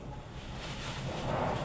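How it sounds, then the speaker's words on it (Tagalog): Strong wind buffets the microphone outdoors in a continuous broadband rush that swells slightly toward the end, with no voices. "lakas ng hangin dito ngayon"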